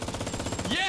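Rapid bursts of MG42 machine gun fire in a video game, a dense rattling stream of shots close and loud, continuing for about a second.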